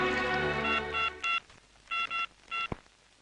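A telephone is dialed in a series of short electronic keypad tones, clipped beeps in two quick groups separated by brief pauses, clear and close over a faint background, with a sharp click near the end.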